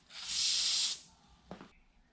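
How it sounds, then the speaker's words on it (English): A hand-held aerosol spray can sprays paint onto a BMW E90 brake caliper in one steady hiss lasting under a second, followed by a faint click and quiet. "this is a hand foot operated spray can."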